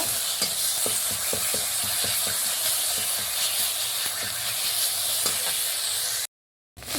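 Food frying in a pan with turmeric, a dense continuous sizzle and hiss heard up close, with light stirring taps throughout before a brief cut to silence near the end.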